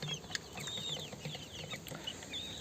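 Desi chickens cluck and murmur steadily on a poultry farm at day 51 of rearing. Soft overlapping calls come from several birds nearby, with faint higher chirps mixed in.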